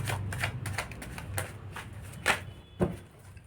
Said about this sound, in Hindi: लेकिन इसको अच्छी तरीके से पहले हम शफल करेंगे, उसके बाद हम कार्ड लेंगे